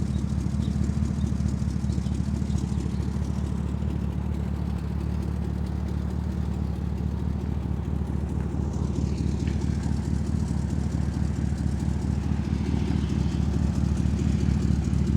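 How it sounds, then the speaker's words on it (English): LS3 V8 in a 1958 Corvette restomod on an Art Morrison chassis idling: a steady, loud, low rumbling burble with even pulsing, continuous and close throughout. "Love the idle of this LS3."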